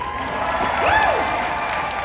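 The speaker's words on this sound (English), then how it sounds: "everybody give her a round of applause" Convention audience clapping and cheering in a large hall, dense steady applause with a rising whoop of cheering over it.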